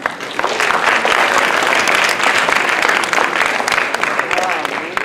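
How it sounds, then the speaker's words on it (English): Audience applause at an education assembly, a dense, steady wash of clapping that fills the whole stretch at full volume without letting up. "So give him a round of applause."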